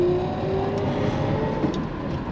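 Steady drive of a classic Mustang converted to electric power with a dual motor, a continuous close-up whir and road rumble with a faint rising tonal whine, no voices.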